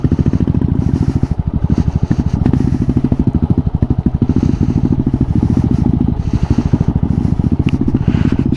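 Motorcycle riding an off-road forest trail at night, its engine running in a steady close chugging putter with rattling and scraping from the rough ground underneath.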